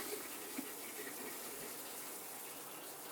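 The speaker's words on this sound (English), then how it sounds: "We're going to turn on the water." Steady broadband rush of a shower running on an Aquastrong Smart 45 water pressure pump, constant and fairly loud, spraying without pause.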